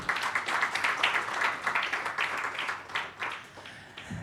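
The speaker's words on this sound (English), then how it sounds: "Let's give him a warm round of applause as we welcome him as a moderator." Conference audience applauding to welcome a moderator on stage, a dense sustained round of clapping from a crowd at moderate distance, continuous for several seconds before tapering slightly.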